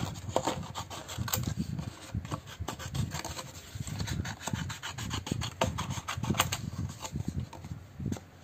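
Someone rough-cuts a bookmark by hand with steady, close rasping strokes, a dense run of short scraping and sawing sounds in an irregular rhythm with no talk.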